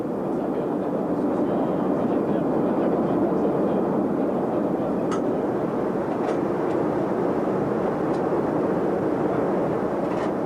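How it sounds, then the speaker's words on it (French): Steady, loud jet-airliner roar from a DC-8 carrying a head of state, a broad continuous rumble holding level throughout with faint clicks on top. "Le président Mobutu voyage dans un DC-8 immatriculé aux Bermudes."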